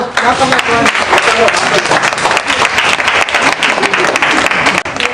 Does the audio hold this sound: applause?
yes